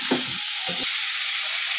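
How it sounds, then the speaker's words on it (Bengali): Vegetables fry in a pan with oil: fried pumpkin, drumstick stems, ridge gourd and tomato are stirred. Two short scraping stirs come up close, then a steady soft sizzle continues alone. "এবার তার মধ্যে আমি কাটোয়ার ডাঁটা, ঝিঙে আর টমেটো সব দিয়ে একটু নাড়ছি"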